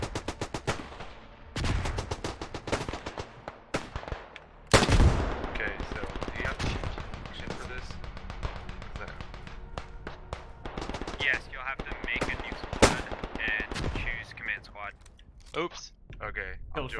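Rifle and machine-gun fire from a WW1 trench-warfare video game, with sharp single shots and rattling bursts, some near and loud, others distant, over background battlefield noise, with voices talking at times.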